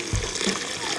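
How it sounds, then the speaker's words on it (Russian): Water pours into a kazan cauldron for outdoor fish soup, a steady close splashing gush with a brief heavier splash near the start. "Добавляем, друзья, воду."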